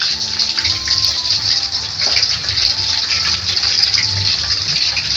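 Water gushes in a steady, loud stream while freshly bought fish pieces are washed in a home kitchen, with no talk over the continuous flow.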